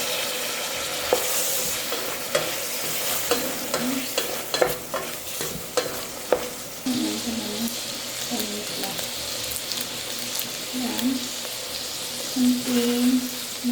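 Hotdogs fry in a pan at home, sizzling steadily while a utensil stirs and scrapes them in repeated taps and clatters. A voice speaks briefly now and then over the cooking.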